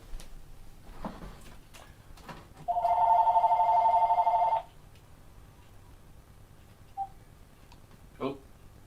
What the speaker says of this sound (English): I gotta get rid of the phone call